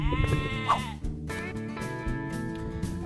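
Sheep bleat in a field, several overlapping calls rising over a steady low background hum, moderately loud and continuous for a few seconds.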